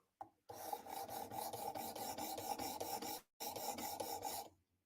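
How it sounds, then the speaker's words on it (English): A blade is sharpened with long, steady abrasive rasping strokes, close and loud, the rhythmic scraping broken by one brief pause before resuming, with no talking. "Is the sharpening sound way too loud?"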